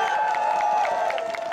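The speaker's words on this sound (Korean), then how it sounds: "큰 박수 부탁드립니다." A big baseball crowd cheers and applauds at a Nexen versus Doosan KBO game, a loud, steady roar with shouts and whoops, near and filling the whole moment without a break.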